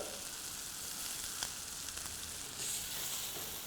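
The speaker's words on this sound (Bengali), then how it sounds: "আমরা ঠিক 2 বার পর পর মশলাটাকে কষিয়ে নিব।" Masala frying in oil for a prawn masala dish gives a steady, fairly faint sizzling hiss that runs on without a break, with a slight swell near the end.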